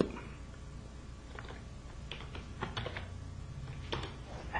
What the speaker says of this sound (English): Having issues typing.